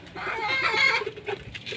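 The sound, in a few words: pigeons making sounds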